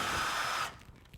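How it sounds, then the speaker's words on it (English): A power drill bores a hole in a ceiling with a dust cup held against it, giving a steady whine for about half a second that then stops abruptly and leaves faint rustling. "go up and drill on the mark, making sure you hold the cup tight against the ceiling to catch most of the dust"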